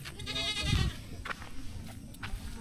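Goats on a farm give one clear bleat, followed by scattered shuffling and small knocks, heard moderately close against quiet outdoor surroundings.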